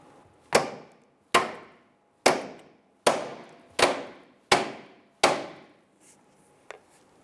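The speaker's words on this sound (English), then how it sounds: "we're going to hit the Pitman arm on either side at the same time" Two hammers strike both sides of a Jeep Grand Cherokee pitman arm together, seven sharp metallic blows at a steady pace, each ringing briefly and decaying, followed by a faint tap.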